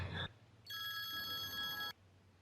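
A telephone rings once in a single sustained electronic burst, fairly clear and close, with a short muffled noise before it and quiet after.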